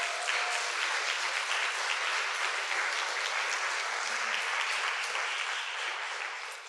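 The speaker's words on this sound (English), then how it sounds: "Can I get a round of applause for her?" Crowd at a sweet sixteen party applauding the head chef, a steady, dense clapping from many people that holds for several seconds before fading slightly.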